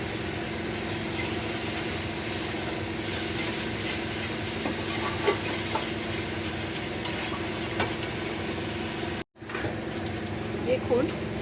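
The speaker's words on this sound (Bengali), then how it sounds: "দেখুন মশলা আমার কষা হচ্ছে, তেলও মশলা থেকে ছাড়ছে।" Spice paste sizzles and fries steadily in hot oil for a chitol (featherback) fish curry in a home kitchen, a continuous close hiss broken by occasional stirring scrapes and a brief gap near the end.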